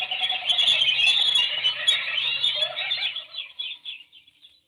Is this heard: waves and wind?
no